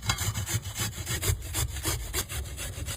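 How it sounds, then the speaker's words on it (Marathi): A carrot is rubbed back and forth over a kitchen grater for a vegetable dish, giving a steady run of rhythmic scraping strokes, close and fairly loud, with no talking. "आपण आता गाजर किसून घेऊ।"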